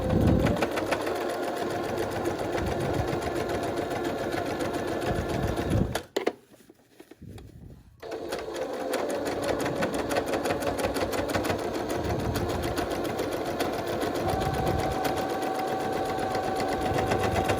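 A sewing machine stitches a filtered fabric face mask with a loud, fast, steady mechanical whir. It stops for about two seconds near the middle, then runs again to the end.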